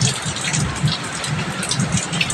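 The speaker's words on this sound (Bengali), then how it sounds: "দেখেছো বৃষ্টি পড়ছে" Rain pours down steadily outside a home kitchen, a dense close hiss of drops striking surfaces, with soft irregular patters throughout and no voices.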